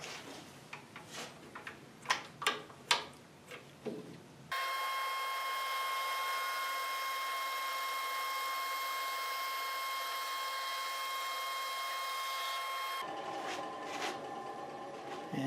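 A power saw runs steadily for several seconds while cutting a tapered wood wedge for a segmented bowl, a constant whine with a sharp start and stop, framed by quiet workshop clatter.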